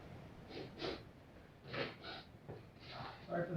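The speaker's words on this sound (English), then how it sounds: "Sorry for the sniffles." Several short, close sniffs and snorty breaths come in irregular bursts, faint and nasal, with no talking.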